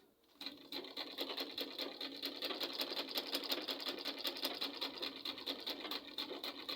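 A sewing machine stitches Ankara fabric for a dress in a steady, close run of fast rhythmic clatter that continues for several seconds with no voices.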